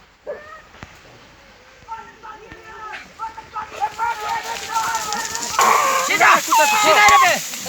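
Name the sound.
hunting dogs barking while fighting a jackal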